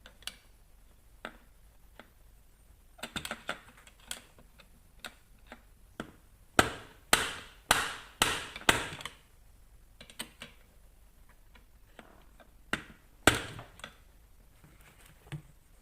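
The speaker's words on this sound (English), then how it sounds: "I'm going to have to give that a gentle tap with a long screwdriver underneath to see if I can free off that broken tooth" A long screwdriver taps underneath a jammed sprocket on a YX140 pit bike engine to free a broken tooth, giving sparse light ticks and then a cluster of sharper metallic knocks, close and alone.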